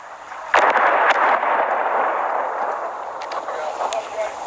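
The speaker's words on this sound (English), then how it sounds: "Multiple artillery rounds from the direction of Turkey exploded a few hundred yards behind us" Artillery rounds fired from the direction of Turkey land a few hundred yards away on a front line, giving a sudden heavy boom with a long rumbling decay. Voices sound faintly beneath it.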